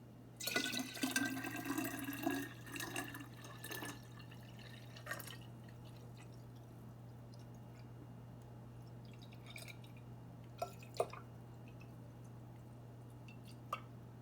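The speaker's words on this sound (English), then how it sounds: "let's see if I can pour this back in here without spilling it all over the counter" Water poured from a measuring container back into another container on a kitchen counter, a brief splashing trickle at the start followed by scattered drips, with a steady low hum beneath.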